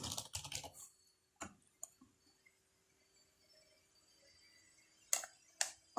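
Keys on a computer keyboard are tapped in short close bursts, a quick flurry at the start, scattered single clicks, then a few more taps near the end with quiet gaps between.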